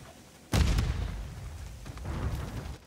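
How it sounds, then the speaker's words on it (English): A stun grenade goes off in a Call of Duty battle, one sudden heavy boom followed by a long rumbling tail that swells again with more distant blasts. "Throwing a stun grenade."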